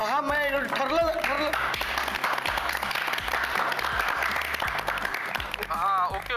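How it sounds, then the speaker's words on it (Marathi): A family claps together at home in celebration, with continuous clapping running through as people talk and laugh over it. "सगळेजण घरात टाळ्या वाजवून आनंद साजरा करतात"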